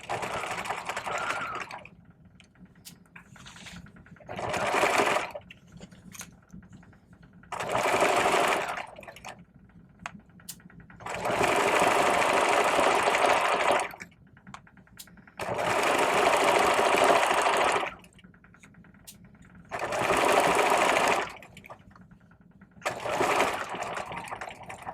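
A sewing machine stitching a vest bag lining, running in repeated steady whirring bursts of a few seconds each, separated by quiet pauses, close and clear.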